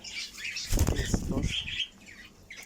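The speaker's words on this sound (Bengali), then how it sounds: "এই পাখিগুলা যে ডিস্টার্ব করে আমাকে কাঁধে এসে বসে থাকে" Pet cockatiels beat their wings in a short, close flurry of soft flapping with a few faint chirps, set in an indoor bird-keeping room.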